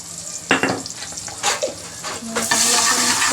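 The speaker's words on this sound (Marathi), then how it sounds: "हा मसाला चांगला परतून घेतलेला आहे आपण" Homemade spice masala with turmeric frying in a pan, a steady close sizzle broken by a few brief scraping stirs, with no talking.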